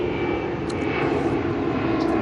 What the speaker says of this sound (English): Airplane crossing.